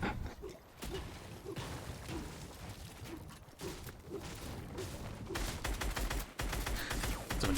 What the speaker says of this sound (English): Some additional shots fired.